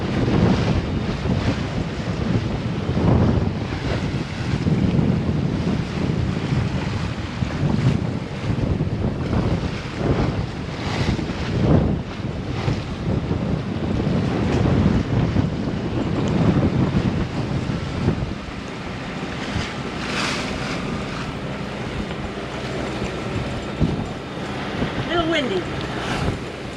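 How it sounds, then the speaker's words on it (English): Strong wind roars across the microphone with surf and waves washing around a sailboat offshore in the Gulf of Mexico, blowing a steady 30 to 35 knots; a dense, continuous rush that eases slightly toward the end. "Windy."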